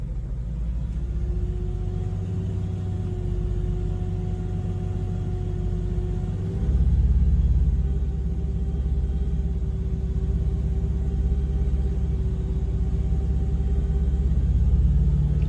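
A car engine is held at a raised idle of about 2,000 RPM, a steady close rumble with a constant hum that steps up slightly in loudness partway through and then holds level.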